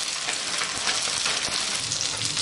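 Tofu pan-frying over medium heat for Korean-style tofu gangjeong, a dense continuous sizzle and crackle of hot oil close by, even in level throughout with no talking.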